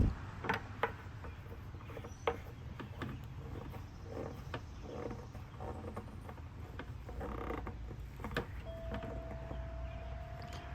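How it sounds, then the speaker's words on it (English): A plastic bushing is twisted and threaded onto a bucket for a gravity-fed quail waterer, giving faint, close creaks and scattered small clicks against a quiet background. "And then we're just going to thread this part of the bushing on the outside."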